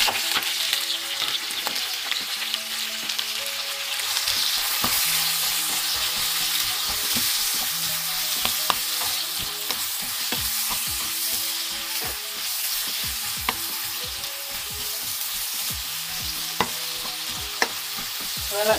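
Steady loud sizzling of food frying in a pan for a rice sauté, with irregular scraping and knocking of a utensil stirring throughout, continuous with no talking.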